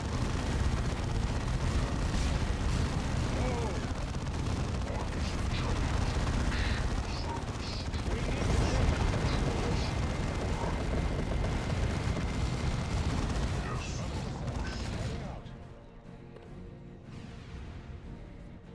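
Dense, continuous battlefield din of gunfire and explosions in Warhammer 40,000: Dawn of War II – Chaos Rising, with space marines returning fire; loud and unbroken for about fifteen seconds, then dropping sharply to quieter rumbling and scattered pops.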